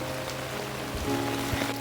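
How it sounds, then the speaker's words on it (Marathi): Rain falls outside a house in the evening at Kondmala in Konkan, a steady patter on surfaces with a low droning hum running beneath it and no talking. "पाऊस पडतो आहे"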